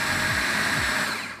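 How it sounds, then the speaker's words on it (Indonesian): A food processor grinding meatball dough for bakso, producing a loud, steady motorized whir that holds throughout and tapers slightly at the end. "Oke, kita giling teman-teman."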